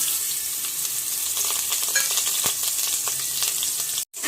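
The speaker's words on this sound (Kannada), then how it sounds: "ಈಗ ಈರುಳ್ಳಿನ ಚೆನ್ನಾಗಿ ಫ್ರೈ ಮಾಡ್ಕೊತಾ ಇದ್ದೀನಿ." Onions frying in a little oil for a chicken curry, a steady close sizzle with faint crackles and occasional stirring scrapes throughout, ending in a brief dropout.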